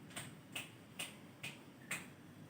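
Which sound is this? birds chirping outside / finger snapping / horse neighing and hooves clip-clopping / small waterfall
finger snapping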